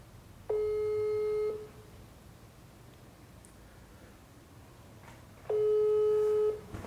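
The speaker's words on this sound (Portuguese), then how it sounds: "Ó, tô chamando aqui." A telephone ringback tone plays while a call waits to be answered. Two steady, clear beeps about one second long are separated by a few seconds of quiet room noise.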